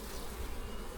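Honey bees swarming an opened strong hive colony, a dense continuous buzzing hum, close and steady throughout the short moment.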